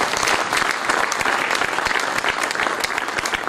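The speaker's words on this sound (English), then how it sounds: "may I please request you for a loud round of applause and welcome" Loud, dense applause from an audience at The Scindia School welcoming a speaker, many hands clapping steadily and close for several seconds with no voices over it.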